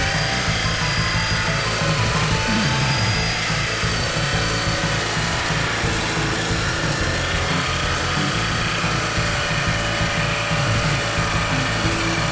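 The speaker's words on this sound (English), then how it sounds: "Jigsaw's a lot easier to do these cuts." A jigsaw cuts through a laminate bathroom countertop, a continuous loud buzzing, rattling saw drone that runs steadily for the whole stretch without pause or talk.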